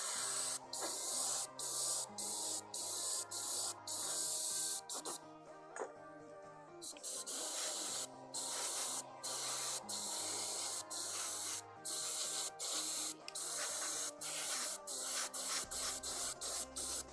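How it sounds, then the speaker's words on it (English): An airbrush sprays paint onto Lord of the Rings and Marvel miniatures in short repeated hissing bursts separated by brief pauses, close and loud, with a faint background tone. "It helps a lot if you turn the airbrush on."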